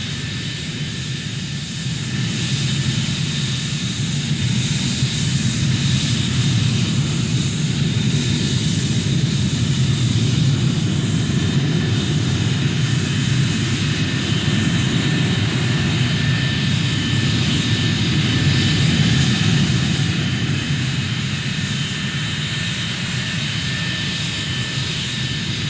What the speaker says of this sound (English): as many as 80 aircraft would fly in complicated formations,